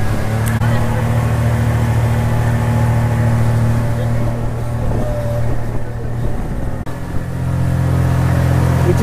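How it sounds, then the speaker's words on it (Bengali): A speedboat runs through a mangrove creek on the way to Bichitrapur, its engine a loud, steady low drone that continues throughout with no break. "আমাদের স্পিড বোট ছুটে চলেছে।"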